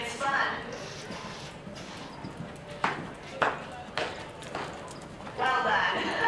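Horses' hooves thud and clop irregularly during a horse demonstration, several distinct strikes rising out of a busy, noisy crowd background with people talking throughout.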